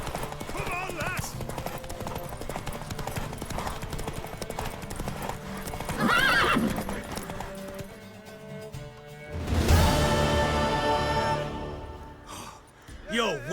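Horse hooves clip-clop at a gallop in The Witcher 3, with a mare's neigh rising partway through; game voices talk over the steady hoofbeats.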